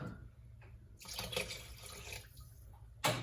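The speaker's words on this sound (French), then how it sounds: "on va mettre à peu près 1 litre d'eau" Water poured into a Monsieur Cuisine Connect bowl for bissara, a quiet close splash that swells for about a second and a half and then fades, with a short splash again at the end.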